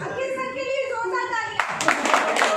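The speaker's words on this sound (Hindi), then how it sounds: "तालियां" At a school Teacher's Day program organized by students, a voice calls out briefly, then a crowd of students breaks into brisk clapping for a teacher, Akhil sir. The applause is lively and close.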